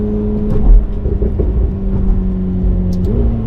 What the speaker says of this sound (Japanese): やっぱりね2速、フルパワー与えてあげるとストリートではホイールスピンしちゃいますね